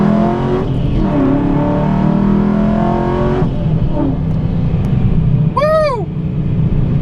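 A procharged 5.7 Hemi car accelerates hard from a second-gear 40 mph roll, a loud close engine roar climbing in pitch through the revs, with a supercharger whine and a shift near the end.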